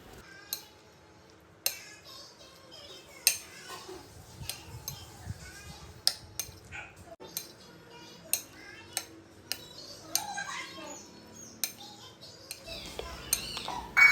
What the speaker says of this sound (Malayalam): ഇനി ഇതിലേക്ക് ചേർത്ത് കൊടുക്കുന്നത് നേരത്തെ ഫ്രൈ ചെയ്ത് വെച്ച ചിക്കനാണ്. ഇതും കൂടി ചേർത്തിട്ട് നല്ലപോലെ മിക്സ് ചെയ്തെടുക്കാം.